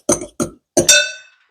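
Spoon clinking against a glass or ceramic bowl while stirring smoked paprika into egg salad: three short clinks, the last ringing out briefly, close and clear with no talk.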